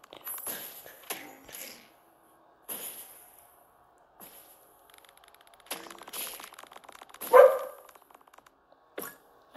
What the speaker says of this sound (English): My dog is barking crazy